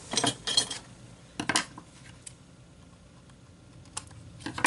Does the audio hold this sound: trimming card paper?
yes